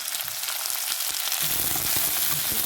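Vegetables and a slit green chili sautéing in hot oil in a pan for a potato-tomato curry, a steady close sizzle with occasional stirring scrapes and no talking.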